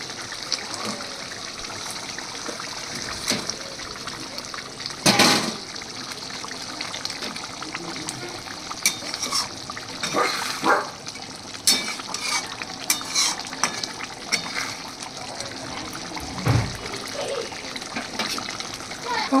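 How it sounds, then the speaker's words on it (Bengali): Fish pieces for doi katla go into a boiling curd gravy, producing a close bubbling, sizzling simmer with splashes and stirring clatter, a sharp knock near the start, and a person talking over it. "জলটা ফুটে গেছে। আমি এখন এর মধ্যে দিয়ে দিচ্ছি মাছগুলো"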